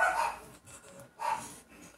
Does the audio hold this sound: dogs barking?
yes